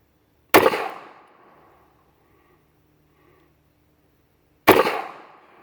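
Two loud, sharp pistol shots from a Colt 1908 Pocket .380, fired at a bench about four seconds apart, each ringing out and fading.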